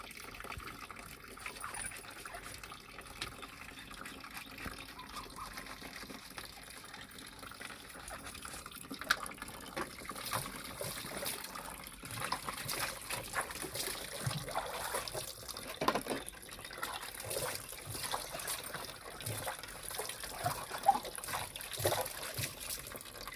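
Water trickles and runs faintly and steadily while kitchen items are washed outdoors, with soft clinks and a light splash that build slightly over time and no clear talk.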